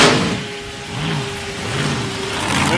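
Turbocharged Nissan RB30 six-cylinder engine in a rear-engine dragster, running steadily with a rough, throbbing note that swells and dips, alongside a thin steady whine and occasional metallic clanks.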